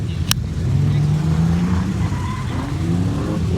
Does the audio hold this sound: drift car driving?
yes